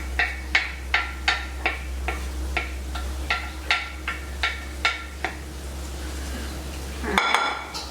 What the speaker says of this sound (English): Scrape all the bits off the plate